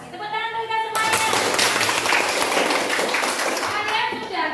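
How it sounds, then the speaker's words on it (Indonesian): A group of children clapping together in a classroom, a steady burst of applause that swells after a second of quiet talk and fades toward the end, close and fairly loud. "Tepuk tangan berikan semuanya."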